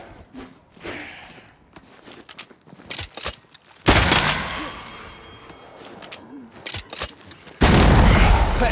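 Gunfire from a corpse enemy in Banishers: Ghosts of New Eden, heavy blasts erupting loud and close after quieter scattered thuds, with a second burst near the end.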